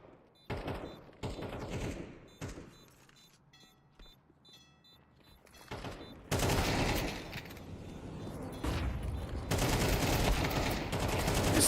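Gunfire in a competitive Counter-Strike match, pistols and rifles firing in rapid bursts and volleys that come in waves, with the heaviest sustained shooting near the end.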